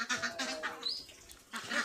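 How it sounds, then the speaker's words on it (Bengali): Ducks quack in short nasal bursts, a few calls close together then another after a brief pause, faint and near. "হাঁসগুলো অনেক প্যাক করতেছে, পানিতে যাইব।"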